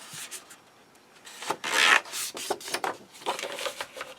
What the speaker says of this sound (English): So now I'm going to fold this back.